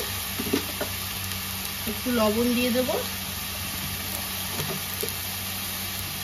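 Kharkol greens dropped into a dry wok, making a soft continuous sizzle and hiss under a voice, with a few faint clinks along the way.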